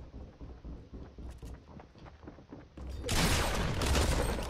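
Burst rifle fire in the Fortnite Battle Royale video game, with rapid shot bursts under a rumbling game background that swells into a dense, loud roar toward the end.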